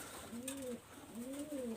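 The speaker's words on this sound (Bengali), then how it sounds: "চোখ হলুদ কালদম কবুতর, এটা ফিমেল কবুতর" Female yellow-eyed Kaldom pigeon from Khulna giving two soft, rising-and-falling coos close by, with faint room noise behind.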